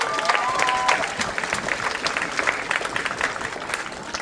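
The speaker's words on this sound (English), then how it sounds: "How about we give Isaac Churcher one more round of applause?" Crowd applause for a performer at an evening Cowboy Band concert, sustained scattered clapping at moderate volume, slightly distant, with some voices mixed in and a brief tonal sound near the start.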